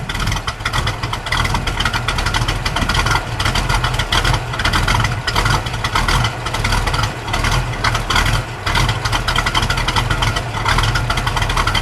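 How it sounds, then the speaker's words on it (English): A 1964½ Ford Mustang convertible with a K-code 289 Hi-Po V8 and 4-speed idles close by, a loud, steady, lumpy rumble with an even throb and no talking. "Let me just let it idle for a second."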